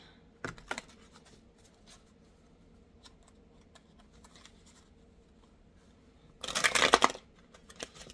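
A large deck of cards is shuffled nearby in one quick riffling burst, preceded by faint handling taps and small knocks in a quiet room.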